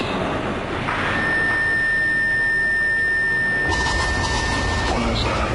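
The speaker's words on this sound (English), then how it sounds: "I don't know, I heard high-pitched ringing" A high-pitched steady ringing tone rises from about one second and holds for roughly four seconds during a ghost investigation, moderately loud over a noisy room background.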